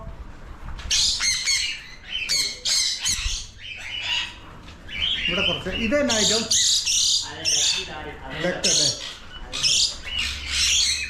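Parrots squawk loudly and repeatedly in dense, overlapping harsh calls near a grape vineyard in Kambam, with someone speaking between and over the bursts.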